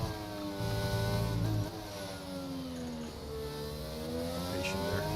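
An F1 race car engine in the F1 22/23 video game at the Suzuka circuit revs high and shifts through gears, its pitch rising and dropping as the car brakes and accelerates, loud and continuous without speech.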